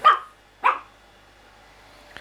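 A dog gives two sharp barks close by, about half a second apart, followed by quiet and a faint click.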